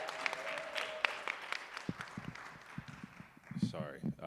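A seminar audience at a breast cancer awareness event claps unevenly, scattered hand claps that build into a loose patter, with a speaker's voice over them near the end.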